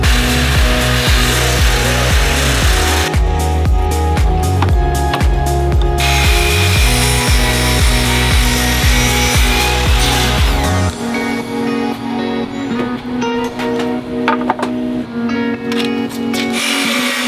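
A power saw cuts wooden pieces for a large china cabinet build, a loud sustained whine with a rhythmic pulsing drone that runs for about ten seconds before it winds down into a lower, quieter hum.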